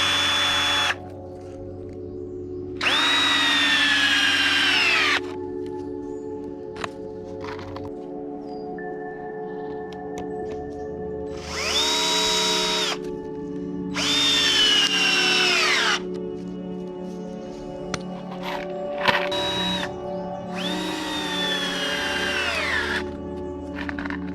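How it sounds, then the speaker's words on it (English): Power drill driving screws through softwood battens into plywood strips for a G scale garden railway platform, in several separate bursts of whirring that rise in pitch, with quiet pauses between them and no talking. "These are easily screwed onto the plywood strips."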